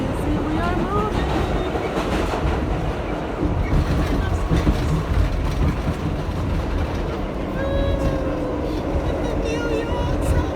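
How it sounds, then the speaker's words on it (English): A New York subway train riding along, with a constant loud rumble, rail clatter and occasional high metallic squeals, heard from inside the moving car with faint voices in the background. "The New York subway."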